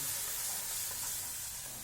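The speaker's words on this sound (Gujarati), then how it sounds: "આપણે જે આપણા કાંદાનો પણ વઘાર કરી લઈએ" Onions sizzle in hot oil, a steady, close, bright hiss that carries evenly throughout with no voices.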